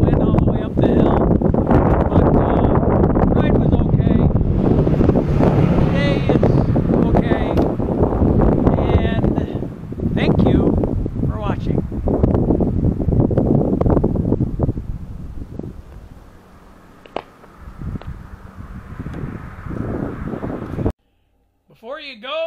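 Heavy wind buffets an outdoor microphone on a cloudy, windy day during an uphill bike ride, a loud sustained low roar with gusty fluctuations that eases near the end.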